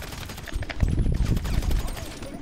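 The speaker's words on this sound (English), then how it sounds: "No, I'm using a machine gun" Rapid bursts of machine gun fire in GTA 5 Online, dense and close, rattling in quick succession with a voice faintly mixed in.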